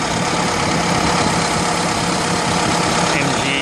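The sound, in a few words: 1936 MG PB engine started with electric starter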